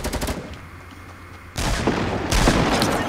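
Gunfire from players in the game Fortnite: a quick burst of shots, a quieter stretch, then heavy, dense firing that sounds close and loud, with no one talking.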